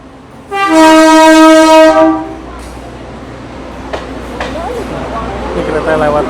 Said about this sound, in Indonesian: Ini kereta lewat nih.